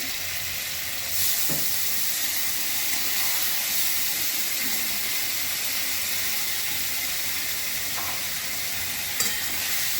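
Water goes into a hot cooking pan, setting off a loud, steady sizzle and hiss of steam that lasts throughout, with a few faint clinks.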